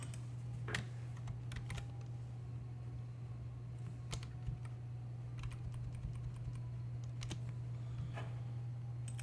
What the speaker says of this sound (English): hold on the control key on the left side of the keyboard and push X as in Xerox on the keyboard